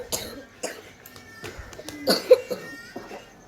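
A person coughs several times in short, harsh bursts spread across a few seconds, fairly close.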